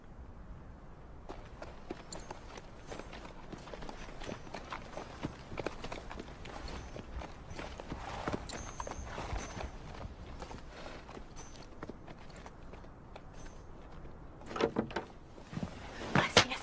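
Hooves clip-clop steadily on hard ground, a continuous rhythmic clatter of walking horses, with a few louder knocks near the end.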